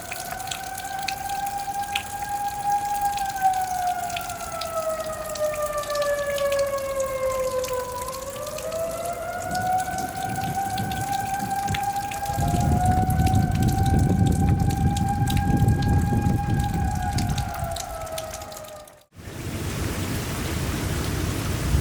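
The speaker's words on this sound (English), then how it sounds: "There go the sirens." Outdoor storm warning sirens wail during a Kentucky thunderstorm, a long steady tone that slowly dips and rises again over falling rain and dripping, then cuts off, leaving the rain alone.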